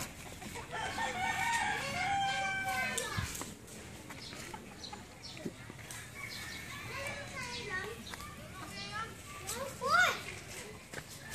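A rooster crows a few times amid lively children's voices and chatter, the calls fairly close and mixed with the talk.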